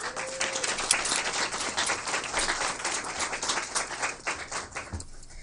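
Steady audience applause in a school board meeting honoring state champion student athletes and coaches, many hands clapping in a dense, even wash that fades toward the end.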